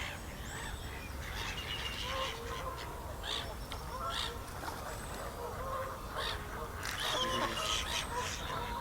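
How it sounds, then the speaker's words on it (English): Ducks and geese by a pond honk and quack in scattered bursts, several birds calling at once over steady outdoor background noise, some calls close and loud, others fainter. "because of the noisy ducks and everything"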